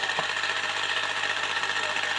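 A steady mechanical whir from the tone arm mechanism of a 1980s Sindy Wall of Sound toy record player under repair, continuous and close with a faint hum underneath, no talk.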